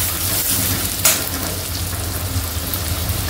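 Spices tempering in hot oil for chicken Schezwan fried rice give a steady close sizzle and crackle throughout, with a brief louder spatter near the start and a low hum underneath.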